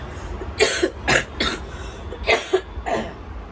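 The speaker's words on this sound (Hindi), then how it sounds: "देख लो, यही वाली खांसी है मुझे।" A run of harsh coughs close by, coming in two bursts of several coughs each with a short pause between them.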